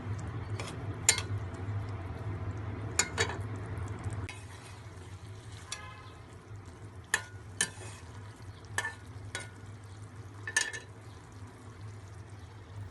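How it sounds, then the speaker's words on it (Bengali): Hilsa fish heads stirred into spiced masala in a hot pan, with soft scraping strokes and occasional sharper clinks of a spatula against the metal over a low steady sizzle. "তারপর নেড়ে চেড়ে দিব।"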